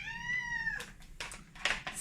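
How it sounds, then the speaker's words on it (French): A small pet cat meows once in a long drawn-out call, close and fairly clear, in a home kitchen, followed by faint clatter. "Si vous entendez des miaulements, c'est mon petit chat."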